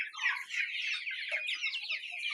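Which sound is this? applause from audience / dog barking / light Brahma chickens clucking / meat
light Brahma chickens clucking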